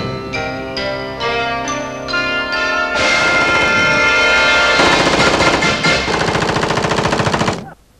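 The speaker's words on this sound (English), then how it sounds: "lightweight handheld firearms capable of rapid semi-automatic or fully automatic fire" Fully automatic assault rifle fire, loud and close, sounding as a rapid sustained burst of shots with a dense rattling rhythm that builds and then cuts off abruptly.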